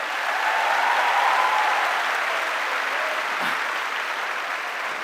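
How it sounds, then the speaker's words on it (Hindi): An audience bursts into sustained applause at a testimony event, a dense, even wash of clapping that carries on for several seconds at a fairly steady level. "प्लीज जोरदार ताली हो जाए मेरी फैमिली के लिए"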